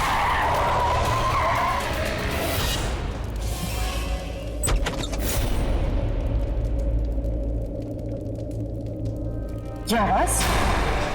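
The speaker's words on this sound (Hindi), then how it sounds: "अभी अचानक ये गाड़ी इतना तेज कैसे चलने लगी?" A car races and skids out of control, loud tire squeals and screeching slides over an engine rumble, with sharp skid bursts near the middle and end, under dramatic music and some voices.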